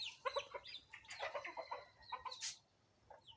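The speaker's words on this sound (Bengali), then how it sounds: "এখন সেজন্য মুরগিগুলোকে কাছে এনে নিলাম" Hens and roosters gathered close for feeding let out a rapid run of quick, fairly faint clucks and squawks, with a sharper cry near the end.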